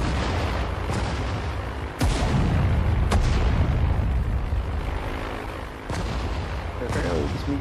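Tank cannon and artillery fire in the WWII strategy game Sudden Strike 4, set at Kasserine Pass: loud booming shots, with sharp reports near 2 and 3 seconds and around 6 seconds over a continuous roar of battle.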